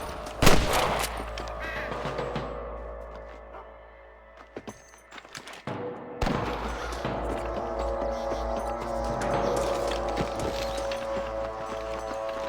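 Gunfire cracks through a Red Dead Redemption western shootout, several loud shots and volleys layered over horse hooves and a dense game soundscape, with a brief quieter lull midway.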